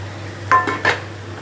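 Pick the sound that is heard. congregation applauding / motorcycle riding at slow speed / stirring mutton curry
stirring mutton curry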